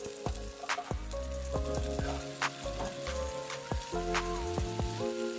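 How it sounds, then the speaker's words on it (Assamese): Chopped onions and tomatoes fry in a pan and are stirred: a steady, close sizzle runs throughout, broken by scattered scraping strokes and light knocks from the spoon, with no talking. "কাটি ৰখা পিঁয়াজখিনি মই দি অকণমান লৰাই থাকিম।"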